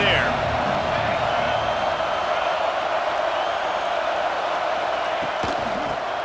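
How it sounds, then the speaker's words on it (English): Stadium crowd at a USC vs Ohio State college football game, a steady roar of cheering and noise sustained throughout, loud and continuous with no breaks. "this crowd trying to help keep them there"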